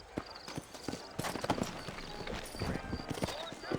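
Horse hooves clip-clopping in Red Dead Redemption, irregular hoofbeats with occasional snorts over a quiet town backdrop, with voices speaking throughout.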